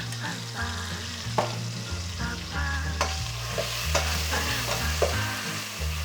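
A paste of onion, salt and ginger deep-fries in oil with a dense, continuous sizzle, while a spoon scrapes and clatters against the pan in repeated strokes.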